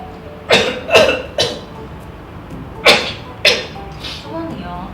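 A man coughs in a string of harsh, forceful bursts, two quick pairs then single coughs, close and loud, with brief throaty sounds in between.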